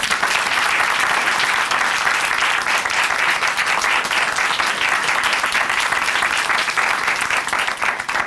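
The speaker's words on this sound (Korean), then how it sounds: "우리 귀한 사연 전해주신 자매님께 다시 한번 감사의 박수 보내드리겠습니다" A large crowd at a Christian church TV program applauds steadily, a dense, sustained clatter of clapping at close range that carries on without a break.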